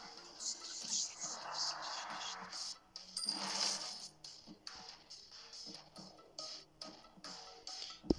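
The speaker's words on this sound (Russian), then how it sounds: "Сначала мы заберем монетки." Bright metallic coin-collection jingles chime in the mobile video game Dark Legends, layered over a busy game soundtrack at low volume.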